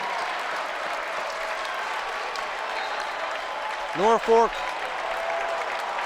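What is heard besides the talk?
basketball crowd cheering and applauding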